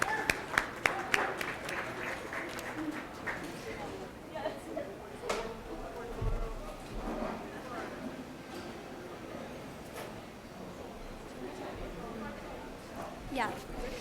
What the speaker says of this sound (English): So if we can just give them a big round of applause for all the work they've done as well